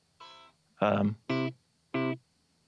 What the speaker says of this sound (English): ping pong delay. Here, I'll turn the octave off,